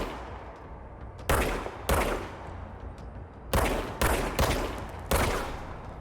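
Gunfire from the video game Control: several loud, sharp bursts in uneven clusters, with some shots following in quick succession and quieter ambient game sound between them.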